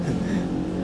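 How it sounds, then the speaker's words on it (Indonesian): Loud motorcycle or vehicle exhaust roaring past nearby, a continuous throaty rumble with rising intensity, filling the whole moment with no pause. "tuh knalpot kenapa sih ya?"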